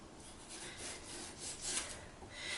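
Peeler scraping the skin off a butternut squash, soft repeated rasping strokes that are close but quiet, with no talking.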